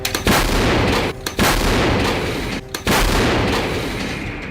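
Several heavy, booming blasts from a long-range self-propelled artillery gun in quick succession, each a loud close crack with a rumbling tail, separated by brief drops in sound.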